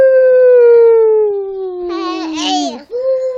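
A voice imitates a dog, holding one long, slowly falling howl-like tone that breaks into a wavering yelp, close and loud.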